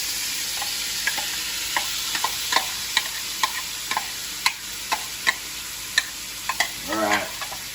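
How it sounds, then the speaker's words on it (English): Marinated teriyaki peanut tofu sautés in a pan with a steady close sizzle, punctuated by regular light clicks and scrapes of a utensil stirring it. "So now we're gonna saute it."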